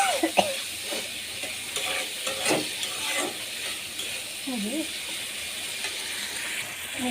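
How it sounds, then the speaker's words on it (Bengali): Onions sautéing in a pan with tomatoes going in, a steady close sizzle under stirring and scraping of a spoon, with occasional brief voice-like sounds over the frying. "পেঁয়াজ কষানো হচ্ছে, এখন দিয়ে দিব টমেটো।"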